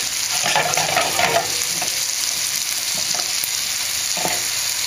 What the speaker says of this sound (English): These onions are going to cook down quite a bit.